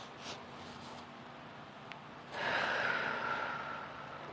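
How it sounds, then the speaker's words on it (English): A slow, deep breath cycle during a guided breathing exercise: a soft inhale, then a longer, louder rushing exhale, close and alone with no talking. "Inhale and exhale."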